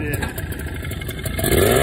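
A used ATV engine whines steadily and runs close and loud, swelling louder toward the end.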